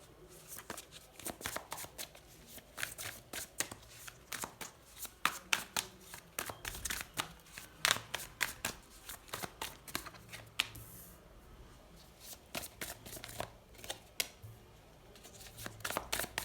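Tarot cards are shuffled by hand in quick, irregular riffling bursts, crisp papery flutters and slaps repeating up close for the whole stretch, with no talking.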